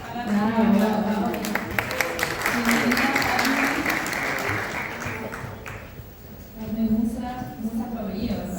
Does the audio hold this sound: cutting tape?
no